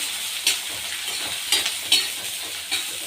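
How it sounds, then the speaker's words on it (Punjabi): Green chilli and onion are stir-fried for a ridge gourd sabzi, giving a steady close sizzle broken by several sharp scrapes of a spoon against the pan. "ਨਾਲ ਹੀ ਹਰੀ ਮਿਰਚ ਪਾ ਦਾਂਗੇ ਇਹਨੂੰ ਅਸੀਂ ਚੰਗੀ ਤਰ੍ਹਾਂ ਭੁੰਨ ਲਵਾਂਗੇ"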